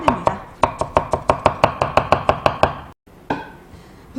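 A knife julienning napa cabbage on a cutting board: a quick, steady run of about fourteen crisp chops, a brief pause, then a few more cuts, close and clear with no talking.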